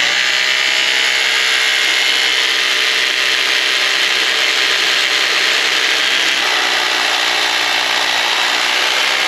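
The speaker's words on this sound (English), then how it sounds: "now it's time for the not very enjoyable part, and that is drilling these holes" Loud, continuous grinding whine of a power drill boring anchor holes for a shop crane's posts, running without a break and heard close and alone.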